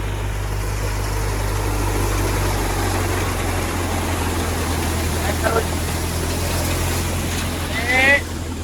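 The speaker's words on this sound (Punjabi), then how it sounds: "ਟਰੈਕਟਰ ਦਾ ਪੂਰਾ ਜ਼ੋਰ ਲੱਗ ਰਿਹਾ ਜੀ" A tractor engine strains under load while powering a wheat thresher in a village field. It makes a loud, constant low drone throughout, with a brief swell near the end.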